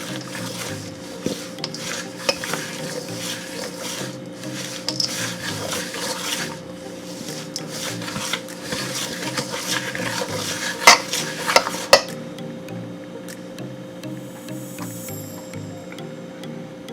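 Beaten egg being mixed into pineapple bread ingredients in a bowl, a steady run of scraping and stirring with light clinks of utensil against the bowl, a few sharper knocks near the end before it quietens.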